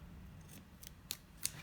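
Scissors snipping off excess sewing fabric, a few quick crisp cuts close by in a quiet room, the last two sharpest.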